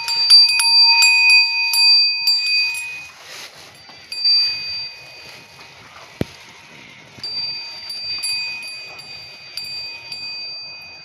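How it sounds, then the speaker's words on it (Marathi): A bull's neck bells ring at a farmhouse, giving steady, fairly close metallic jingling throughout with sustained tones and a few sharper strikes, and no voices. "तर सर्जाला पण आपण घंटी बांधणार आहोत"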